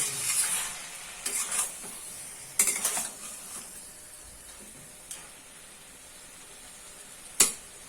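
Boiled potatoes and banana flower curry with fritters stirred in a pan: a handful of scraping spatula strokes in separate bursts, the last one sharp, over a faint, quiet sizzle with no talk.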